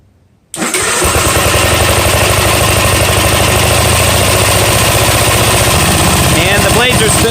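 A Gravely walk-behind tractor engine cranks and catches after a brief quiet moment, then runs loud and steady at a constant idle-to-throttle drone close by.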